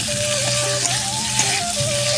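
Potatoes frying in spiced oil for aloo dum and being stirred, a steady close sizzle with faint scraping from the stirring running through the whole stretch, and no voices.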